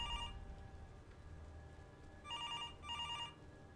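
An old-style telephone bell rings in a spooky horror video game, one short burst at the start and then two louder double rings later, over a low ambient rumble with no talking.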